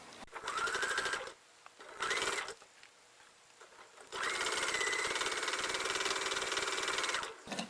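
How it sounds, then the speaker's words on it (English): A sewing machine stitches around a fabric bowl, running in three bursts: two short runs separated by quiet pauses, then a longer steady whirring stretch, close and clear with no speech. "I'm going to sew all the way around"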